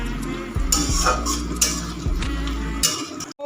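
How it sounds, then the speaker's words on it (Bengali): Chopped capsicum is stirred in a frying pan with a spatula, producing repeated scraping strokes over a soft sizzle and low hum close by. "এই কেটে রাখা ক্যাপসিকামগুলো দিয়ে দেবো, দিয়ে আবার ভালো করে নাড়াচাড়া করে নেব"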